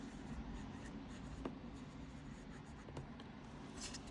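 A Sailor stainless steel fountain pen nib scratches across paper in a quiet, close, continuous scrawl, with small strokes and taps surfacing over a faint background hiss.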